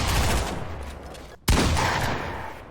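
Automatic drum gun fire in a video game, a dense continuous burst that cuts out briefly near the middle and then resumes loud and close.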